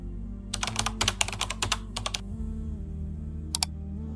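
Keys clatter on a computer keyboard while a first and last name is typed during account sign-up, a quick burst of close taps with short pauses, then a final pair of keystrokes over a low steady hum.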